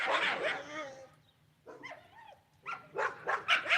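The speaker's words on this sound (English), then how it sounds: "There's a dog whining. It was like whining or like barking." A dog whines and barks at a homestead, a few short bursts with gaps between them, fairly close and moderately loud, with a quieter yelp in the middle.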